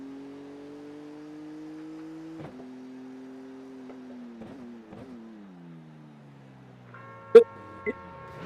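A BMW GT3 race car engine idles quietly in the pit lane of a video game, a steady low hum that dips slightly in pitch, with a few brief clicks and a sharp knock near the end.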